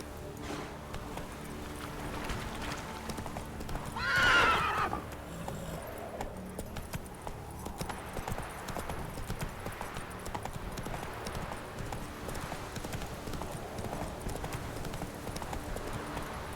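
Roach the horse galloping in The Witcher 3, hooves clip-clopping in a rapid steady rhythm throughout, with a brief louder whoosh early on.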